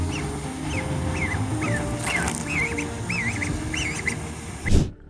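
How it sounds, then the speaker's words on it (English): A pet duck gives a series of short, wavering quacks, moderately close and regularly spaced, over a steady background noise that ends with a brief loud bump. "Who wouldn't love to come home to a happy waddling duck?"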